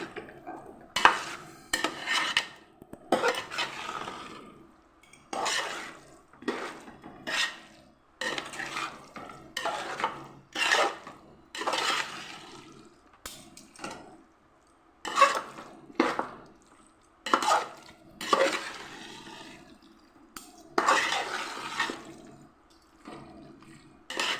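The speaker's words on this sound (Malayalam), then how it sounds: "അങ്ങനെ ഇതിട്ടൊന്ന് നന്നായി ഇളക്കി ഒന്ന് അടച്ച് വെക്കാം" Two kilograms of chicken being stirred into biryani masala in a pot for Thalassery chicken dum biryani: a run of scraping, clinking spoon strokes against metal in irregular bursts, close by and with no talking.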